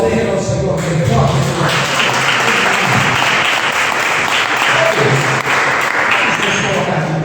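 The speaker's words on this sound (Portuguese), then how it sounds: "Pode aplaudir ao Senhor bem forte." A church congregation applauds loudly, a dense, continuous roar of clapping with voices mixed in, loud and sustained, with a faint musical tone underneath.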